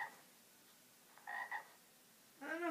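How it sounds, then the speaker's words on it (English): A frog croaks faintly in short bursts, a pair of quick raspy calls followed by a louder one at the end, against a quiet background. "Frog."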